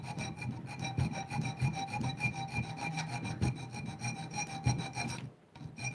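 A file rasps steadily against the edge of a homemade blacksmith-forged knife, setting the bevel angle in continuous back-and-forth strokes, close and loud, with a brief pause near the end.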